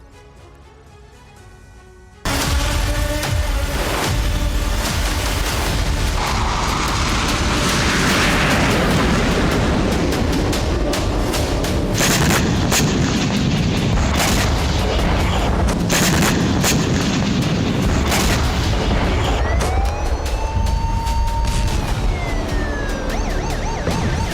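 Missile explosions in Damascus, Syria, reach a dense, sustained roar of blasts and rumbling, with sirens wailing over it, continuing loud for over twenty seconds after a brief quieter start.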